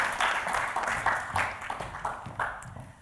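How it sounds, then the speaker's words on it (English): An audience in a lecture hall claps for speakers coming on stage, a short round of steady, moderately distant applause that tapers off. "we'll give them a little round of applause."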